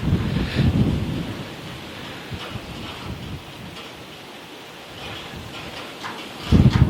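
Gusty wind buffets the microphone in low rumbling bursts, strongest at the start and end, with a steady blustery roar between.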